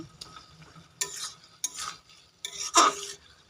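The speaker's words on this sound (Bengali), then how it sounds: "আমি ভালো করে মিশিয়ে নিব শাকের সঙ্গে, ধনেপাতা সব একসঙ্গে মিশিয়ে নিব" Cooked greens being stirred together with fresh coriander leaves in a pan, giving three distinct scraping, sizzling stir strokes over a faint background, close and moderately loud.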